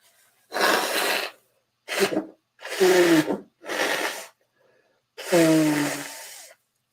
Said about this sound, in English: Let me just blow my nose first.